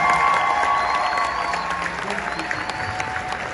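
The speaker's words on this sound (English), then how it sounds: "please a round of applause for me" Audience applause at a 40th birthday celebration in Lagos, a broad steady clapping wash with some crowd noise, holding at a moderate level throughout.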